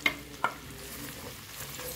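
Garlic and red bird's eye chilies stir-frying in a pan, a steady low sizzle with two sharp clicks of a utensil near the start, no voices.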